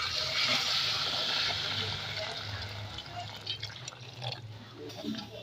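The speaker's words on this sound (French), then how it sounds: "J'ai ajouté l'eau chaude." Hot water poured into a cooking pot of softened mbinzo caterpillars while making a stew, a steady broadband rush and trickle of liquid that gradually thins out, heard close and alone.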